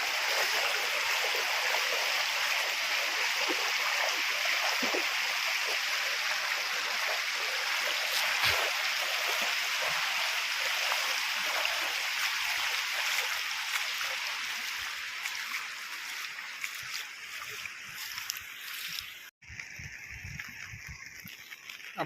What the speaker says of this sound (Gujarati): જોવો વધવામાં છે પાણી.